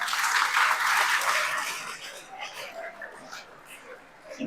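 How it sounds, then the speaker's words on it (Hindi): Audience clapping for children at an event, a dense burst of applause that fades over a few seconds into scattered claps and murmuring voices. "ताली बजाओ इन बच्चों के लिए भी"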